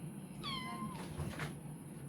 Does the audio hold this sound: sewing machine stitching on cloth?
no